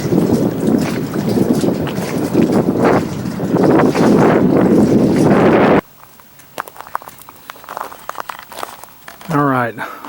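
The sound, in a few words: jet ski running on the water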